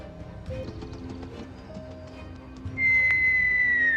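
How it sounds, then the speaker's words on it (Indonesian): A sharp, high whistle rings out near the end, sustained and slightly falling, after quiet background rustling and faint tapping. "Suara siulan tersebut membuat dua orang ini terkejut."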